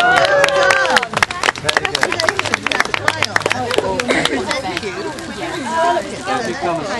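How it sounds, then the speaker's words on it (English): A small crowd claps for the winner, Kai, at an outdoor gathering in Eastcote Gardens. Sharp, scattered claps come close and loud while people talk over them. "we give a big applause for Kai"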